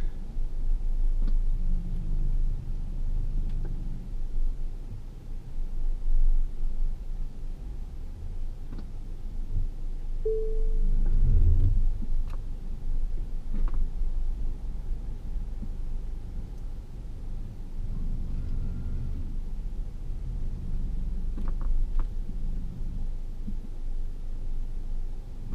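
A Tesla Model S creeps along under Autopark, a low steady road rumble and faint motor hum with no speech, briefly pausing and resuming partway through.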